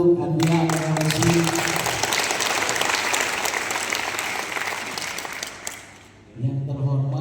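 The audience at a graduation ceremony breaks into sustained clapping. It swells after a brief spoken introduction, holds for several seconds, then fades as an announcer resumes talking.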